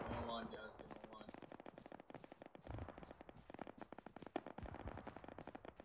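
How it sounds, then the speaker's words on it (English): Dense, rapid crackle of distant gunfire in the ARMA 3 military shooter, running continuously as many overlapping small pops and bursts, with a voice speaking briefly near the start. "That's intense gunfire."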